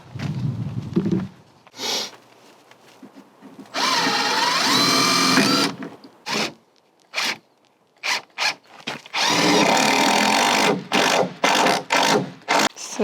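Power drill driving screws into framing of a DIY off-grid cabin in Idaho, heard in several sustained whirring bursts of a second or two and short stabs, fairly close and loud with quiet gaps between.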